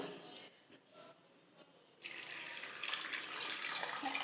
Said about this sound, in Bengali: আমলকি চেরা হয়ে গেছে, এবার এতে আমি জল দেব।